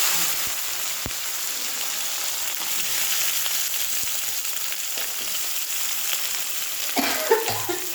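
Onions fry with meat in a hot pan, giving a steady close sizzle with occasional stirring scrapes and a brief clatter near the end, with no voices.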